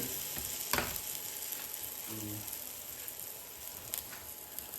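A mushroom omelette fries in a pan after being flipped, giving a steady, soft sizzle with a brief louder clatter near the start and a few light scrapes, no voices.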